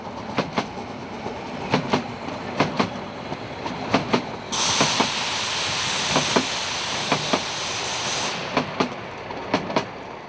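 LGB narrow-gauge model train running near Quedlinburg, a steady clickety-clack of wheels over rail joints with a loud hissing burst partway through, heard close and alone.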